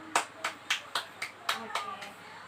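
Second-grade schoolchildren in a classroom clap for their groups: about eight sharp, evenly spaced claps in a quick rhythm, fairly faint against a quiet room.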